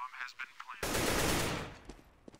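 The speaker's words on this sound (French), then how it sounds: "Il va tomber instantanément sous les balles d'Asilion Revenge." Counter-Strike gunfire on the Cache map during a professional league match: after some quiet in-game sounds, a loud, sustained burst of automatic shots lasts about a second, then fades back to softer game noise.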